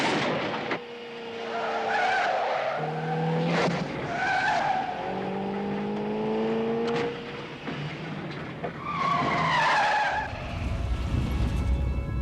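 A car chase excerpt from a film, with screeching tire skids rising and falling across several long squeals, engines revving and roaring between them, loud and close throughout.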